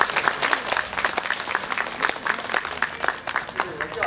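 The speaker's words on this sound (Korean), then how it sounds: "한번 큰 박수 부탁드리겠습니다." Audience applause at a civic town-hall talk event in Suncheon, a steady sustained clapping from a room full of people, broad and even throughout with no voices standing out.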